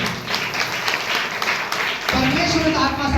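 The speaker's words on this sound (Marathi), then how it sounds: "टाळ्या" A congregation applauds at a Marathi-language church worship service, steady clapping filling the room throughout and swelling louder near the end as a voice comes in over it.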